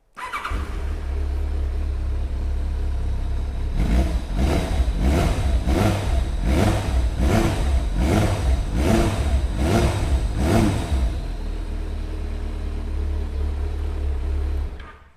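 A Kawasaki ZRX1200 motorcycle engine idles steadily, then is blipped through about nine quick, even revs before settling back to a constant idle.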